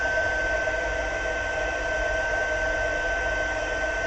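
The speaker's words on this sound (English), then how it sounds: "Oh, I love heat embossing." A heat gun blows steadily while heat embossing on vellum, a constant close whooshing hum with a thin high whine, unbroken throughout.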